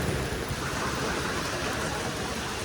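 Rain falls in a steady, loud, unbroken hiss of dense drops, with no voices or other sounds over it.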